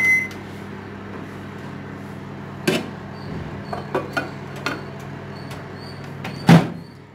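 A preheated oven door is opened and handled, giving a few knocks and clunks with a louder thud near the end over a quiet steady hum.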